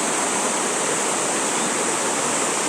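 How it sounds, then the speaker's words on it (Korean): Geumryong Falls, the eleventh of the twelve waterfalls on Seongchisan in Geumsan, South Korea, pours in a steady, dense roar of rushing water, close and unbroken with no voices. "11 폭포 중에 11 금룡 폭포예요, 금룡."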